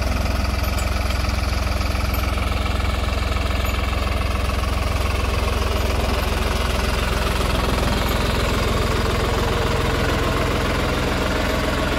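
A New Holland 5620 4x4 70 hp tractor runs with an 11-tine tiller, its engine giving a loud, steady, close rumble with a constant knocking beat throughout and no voices.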